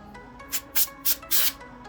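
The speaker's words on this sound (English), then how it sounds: "this thing has got a ton of dust in it, so I took my compressed air" Compressed air is blown in four short, sharp hissing bursts into a dusty PS4 console being deep cleaned. The bursts are close and loud, with a brief gap between each.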